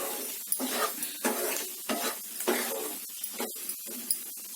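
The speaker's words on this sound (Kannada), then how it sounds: "ಈಗ ಸಿಮ್ನಲ್ಲೇ ಇದೇ ತರ ಕೈ ಆಡ್ತಾ ಇರಿ ಒಂದು ಅರ್ಧ ನಿಮಿಷ ಅಥವಾ ಒಂದು ನಿಮಿಷದಷ್ಟು" Masala powder and baby potatoes fried in ghee, stirred steadily over low heat, with a close, continuous sizzle broken by frequent scraping clicks of a spoon against the pan.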